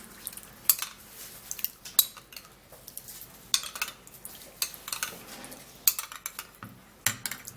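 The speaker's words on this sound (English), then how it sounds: "So putting it inside there and then stir it up again." A spoon stirs a carrot juice mixture in a container, making quiet, close, irregular clinks and scrapes with short pauses between strokes.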